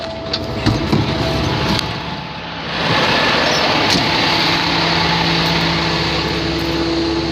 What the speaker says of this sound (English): turn on the PTO, dump the airbag